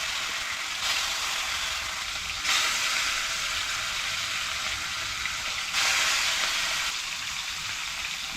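Chicken frying in a hot pot over an outdoor fire, a steady hissing sizzle that swells in louder bursts now and then, close and continuous with no talking.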